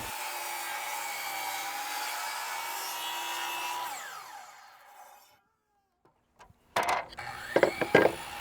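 A power saw cuts a wooden base moulding along a scribed line, a loud steady whine lasting about four seconds before winding down to silence, followed by a few sharp knocks as the piece is handled.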